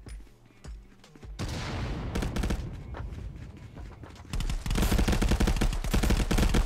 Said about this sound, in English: Shooting like in the dark